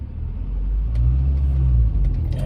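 A Rover 600 car pulls away in traffic with a deep engine rumble that builds as it accelerates toward a roundabout, heard from inside the cabin and steady and loud throughout.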